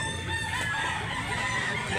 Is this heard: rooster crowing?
yes